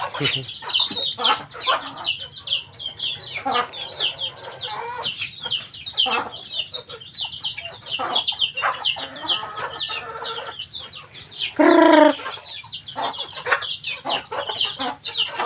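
Several chickens cluck and chatter nearby in short, irregular bursts, with one louder squawk partway through.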